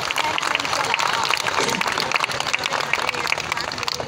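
Fairly quiet clapping from a school audience at an education awareness talk, a steady patter of hands held at a distance for a few seconds, with some voices mixed in.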